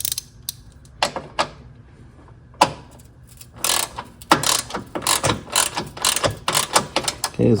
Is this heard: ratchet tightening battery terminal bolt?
yes